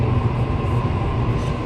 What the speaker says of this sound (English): So look, the train is already here.